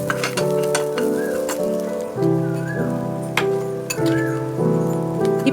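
Minced momo filling is mixed in a bowl with salt, pepper, chilli powder and garam masala, giving intermittent clinks and soft wet stirring under steady background music.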